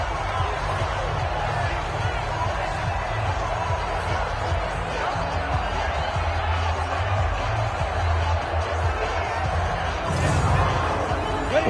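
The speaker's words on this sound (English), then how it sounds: "The crowd getting into it as we come up on a big 3rd down" Stadium crowd noise in the Madden 20 football video game, a steady roar building ahead of a big third down, heard continuously beneath a commentator's talk, with a louder swell near the end.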